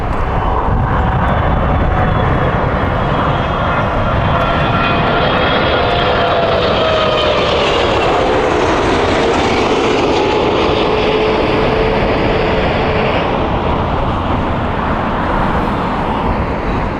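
Egypt Air Boeing 777 jet at Heathrow Airport producing a loud, sustained roar across the whole stretch, with whining engine tones that slowly shift in pitch as the airliner passes.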